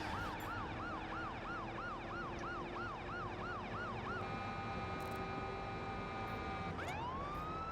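An ambulance siren in The Crew driving game wails in a fast, regular yelp pattern, then switches to a steady tone before a sharp sweep near the end, loud over constant engine and road noise.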